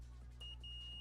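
A multimeter checking continuity on arcade power supply wiring chirps briefly, breaks, then settles into a steady clear beep over a low background hum.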